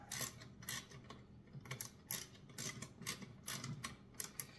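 Bolt being tightened on a tibialis anterior exercise machine, with a run of quiet metallic ratcheting clicks in short bursts, close by and soft, with no talk.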